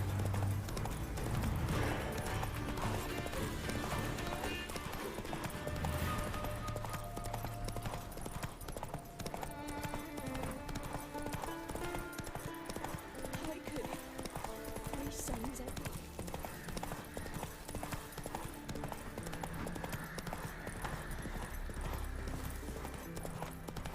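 The horse Roach, ridden in the video game Witcher 3 on Death March difficulty, gives steady rhythmic clip-clop hoofbeats with an occasional whinny, under game music and a voice talking over the top.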